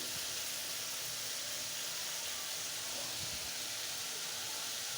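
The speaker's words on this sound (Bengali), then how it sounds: "অবশ্যই তোমরা মাঝারি আছে এই চিচিঙ্গাটাকে ভেজে নেবে" Snake gourd fries in a pan with a steady, dense hiss of sizzling oil that runs unbroken throughout, close and moderately loud.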